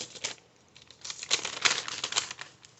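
A piece of paper is handled close up, producing soft crinkling and rustling bursts that grow louder toward the middle, with no talking over it.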